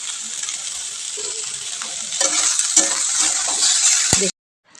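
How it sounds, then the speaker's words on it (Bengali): Potato, capsicum, onion and chili fry for chowmein in a pan, with a loud, continuous sizzle and occasional scraping clinks of a spatula stirring, before the sound cuts off abruptly near the end. "আলু আর ক্যাপসিকাম পেঁয়াজ লঙ্কাগুলো দিয়ে সব সুন্দর করে এখন ভেজে নেব"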